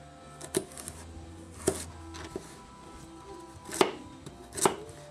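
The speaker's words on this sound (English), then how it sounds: "So it cuts through the carrots pretty well." A Starfrit ceramic knife chops carrots on a cutting board in a kitchen, with a handful of crisp, separate thuds spaced irregularly, some firmer than others, against a quiet background.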